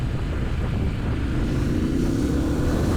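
A Triumph Street Scrambler motorcycle on its stock Euro 5 exhaust runs under way with a steady, rumbling engine drone, loud and continuous, its pitch slowly rising as the bike pulls.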